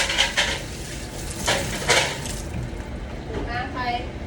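Dishes being washed in a restaurant, with clinking plates and cutlery, a few sharp clatters and running-water splashing, while a person talks over it.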